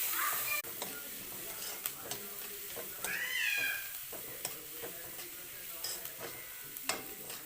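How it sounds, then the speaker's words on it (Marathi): Tomatoes and onion being stirred with salt in a pan for a bottle gourd curry: soft sizzling with repeated scraping strokes of a spoon, close and moderate, plus a brief high, sweeping cry midway. "आता व्यवस्थित माझी मम्मा हलवत आहे."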